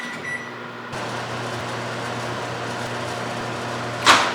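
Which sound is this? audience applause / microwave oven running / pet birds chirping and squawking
microwave oven running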